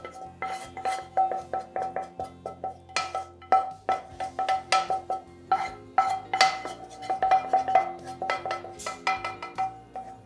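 Carrots tossed into a frying pan and stirred with a metal utensil, giving quick repeated clinks and scrapes against the pan in uneven bursts, close and fairly loud, with no talk.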